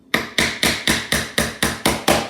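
Nails are driven into wood with a hammer: nine sharp, loud, close strikes land at an even, quick rhythm, about four per second, with brief ringing decay between them.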